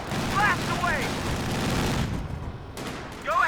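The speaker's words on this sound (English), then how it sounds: "Incendiary rounds may get one more burst, and wipes it out with the last of his last round." Incendiary rounds fire in rapid bursts in Company of Heroes 2, sharp crackling volleys over battle rumble, with explosion-like booms and a commentator talking over the action.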